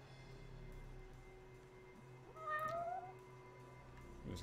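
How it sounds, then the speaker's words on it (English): A cat meows in the detective game Judgment, a single drawn-out rising-and-falling mew around the middle, fairly faint against quiet game ambience and a low hum. "That's no pigeon. That's a cat!"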